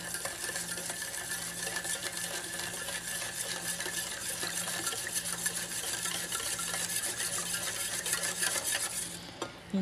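A spoon stirs a creamy maja blanca mixture in a pot, a steady, continuous scraping and swishing close by, with no talking and only a brief dip near the end.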